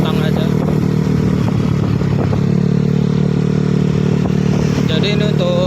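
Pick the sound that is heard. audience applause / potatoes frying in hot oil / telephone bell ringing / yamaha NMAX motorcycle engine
yamaha NMAX motorcycle engine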